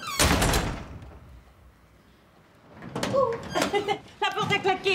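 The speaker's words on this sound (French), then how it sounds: "La porte a claqué." A door inside a home bangs shut with a sharp, loud impact at the start, followed by a quieter pause and then a voice speaking.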